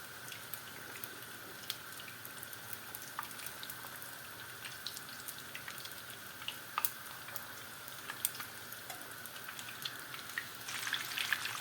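Kadın budu köfte meatballs fry in a pan with a continuous fine, hissing sizzle, dotted with small pops and crackles. The sizzle swells slightly near the end, and no one speaks.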